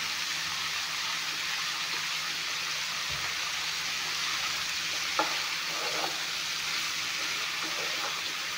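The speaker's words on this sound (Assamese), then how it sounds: "এতিয়া এইখিনি অলপমান ভাজি ল'ম।" Food sizzles steadily in a hot pan, a constant bright crackle with a few faint clinks of stirring.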